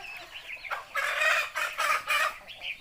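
Fighting rooster at a cockfighting ring, giving a run of loud, harsh crowing and clucking calls in bursts over about two seconds, close by with no talking.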